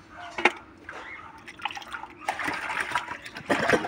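Fish being rinsed under running water in a kitchen, with an uneven splashing and trickling wash that swells louder toward the end, close and continuous with no talking.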